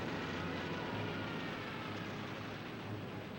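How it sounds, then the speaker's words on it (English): Propeller aircraft drone overhead as WWII Nazi bomber planes fly over Allied positions in North Africa, a steady, dense engine roar with a low throbbing hum that stays loud and continuous throughout, with no voices. "But Nazi planes bomb Allied positions daily."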